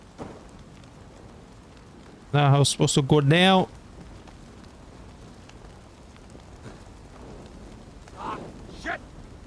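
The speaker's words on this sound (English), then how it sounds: "Oh no, it's raining." Steady, faint rain hisses across an Assassin's Creed Valhalla game world in Ireland, staying low in the background throughout while someone speaks briefly over it.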